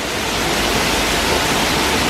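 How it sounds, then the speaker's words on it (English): Rushing water drives a large historic water wheel at a Cornish tin mining site, heard as a loud, steady, dense roar with no voices. "Oh, that's a massive water wheel."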